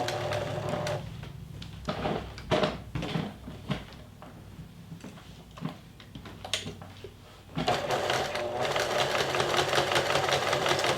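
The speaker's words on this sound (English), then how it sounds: "I'm just going to back stitch at the beginning." A sewing machine back stitches at the start of a 5-inch straight seam on a fabric coaster, giving short bursts of mechanical stitching that stop and restart before a steadier run of sewing.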